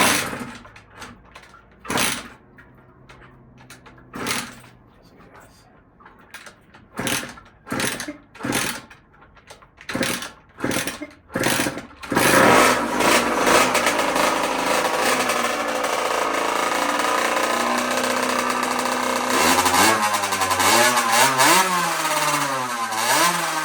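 A KX60 two-stroke engine swapped into a Tao Tao mini quad pops in uneven, choppy bursts, then revs up into a loud, steady buzzing roar. Near the end the pitch wavers and sags as the engine bogs toward stalling.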